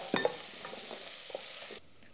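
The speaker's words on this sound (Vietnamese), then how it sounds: "Rồi đến phần mi pois, xào mềm thơm thôi, không cần vàng." Peas and bacon sautéing in a pot for a meat sauce for pasta, giving a steady soft sizzle with a few stirring clinks near the start before it cuts off abruptly.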